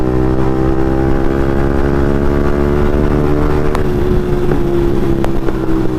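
Yamaha MT-15 motorcycle with an Akrapovic exhaust riding at night, its engine a loud, steady drone with a rising pitch, buffeted by wind, and a few sharp clicks near the end.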